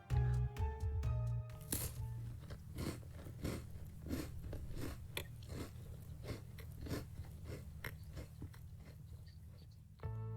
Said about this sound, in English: those loud crunches weren't of teeth hitting bone, but of something loudly chewing on